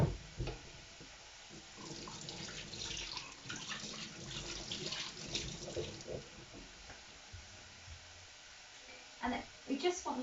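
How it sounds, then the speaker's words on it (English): Tap water runs steadily into a kitchen sink while hands are rinsed beneath it, a continuous close splashing with a few louder splashes near the end. "give my hands a wash before stirring"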